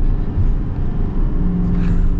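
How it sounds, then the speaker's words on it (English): A Chevy Silverado 3500 Duramax diesel dually pickup accelerates hard, producing a deep, close, continuous rumble that builds slightly toward the end. "let's get our big acceleration here with the Duramax dually."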